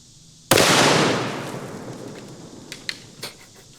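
A single loud 6.5 Creedmoor rifle shot cracks sharply close by, fired from a gun sled, its blast decaying over a second or more, followed by a few faint, distant knocks.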